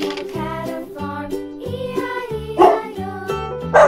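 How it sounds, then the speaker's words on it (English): A cartoon-style dog bark sounds over a bouncy Old MacDonald farm-song melody, the barks landing in rhythm with the music rather than standing alone. "Dog."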